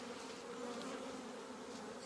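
Honey bees drone steadily around an open hive in Fairbanks during a frame inspection, a dense, continuous buzz of many wings held close and even throughout.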